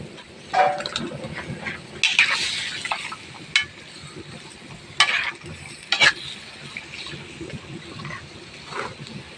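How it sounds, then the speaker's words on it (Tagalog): Squid cooking for adobong pusit in a pan as soy sauce is added, a steady near sizzle and frying hiss broken by several sharp stirring scrapes and clinks. "Lagyan ng toyo."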